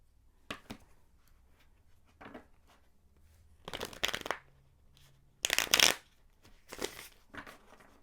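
Tarot cards shuffled by hand in several separate bursts of riffling and sliding, with quiet pauses between the brisk, close, papery flurries.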